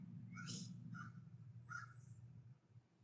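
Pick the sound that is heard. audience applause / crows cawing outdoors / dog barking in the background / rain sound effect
crows cawing outdoors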